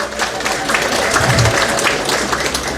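A church congregation claps together throughout, a steady dense patter of many hands at fairly loud level with a faint voice now and then.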